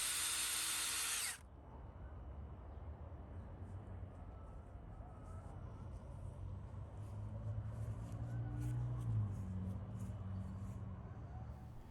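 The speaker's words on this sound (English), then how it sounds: "I'm using headlock screws." A drill drives headlock screws into the wooden deck frame of a tall swing set in one loud, short whirring burst at the start, then only a faint low rumble remains.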